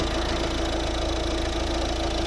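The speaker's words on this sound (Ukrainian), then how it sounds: "А ось двигун. Робота двигуна." A Volvo V50 engine idles steadily, a smooth continuous hum with a low rumble and no revving, heard up close.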